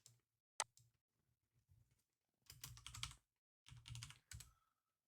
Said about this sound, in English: I'll just type desktop